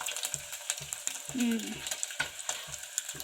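Steady sizzle of eggs frying in a pan with repeated scraping stirs, close by and moderately loud, no talking.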